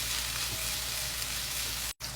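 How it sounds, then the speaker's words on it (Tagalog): Onions sauté in oil drained from canned mackerel, making a continuous close sizzle and crackle that drops out briefly just before the end. "So igigisa natin yung sibuyas."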